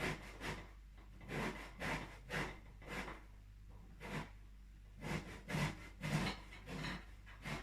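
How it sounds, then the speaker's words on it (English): A lemon rubbed against a grater for carrot cake zest, giving soft rhythmic rasping strokes repeated roughly every half second, close and fairly quiet with no talking. "If the lemon is soft, it will be a little bit more difficult to grate it"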